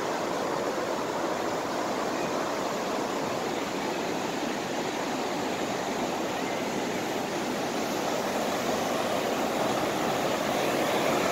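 Loud, steady rush of river water pouring over the Jamsil underwater weir on the Han River, a broad continuous roar that holds unbroken throughout with no talking.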